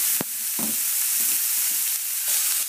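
Ground beef fries in a dry pan with no oil, making a constant loud sizzle up close. A few soft scrapes and knocks of stirring break in, and no one speaks.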